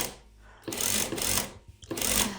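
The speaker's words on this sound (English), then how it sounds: "put the needle down, back tack, and that just means that the fabric isn't struggling to get under the foot" A sewing machine stitches a back tack through thick fabric for a tote bag, running in a few quick bursts with short pauses between them, close and fairly loud.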